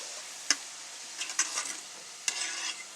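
Snack dough frying in hot oil, a soft, constant sizzle and bubble with a few sharper scraping stirs and clinks against the pan.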